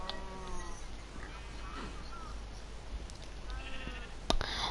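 Sheep in the video game Minecraft bleat a few times, wavering cries against a quiet background hiss, with a soft click near the end and no talking.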